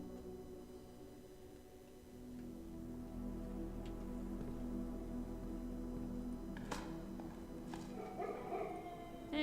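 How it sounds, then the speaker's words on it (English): Dogs bark faintly in the distance, a few scattered yips and barks over a steady low background hum, with no talk. "We can hear the dogs from here?"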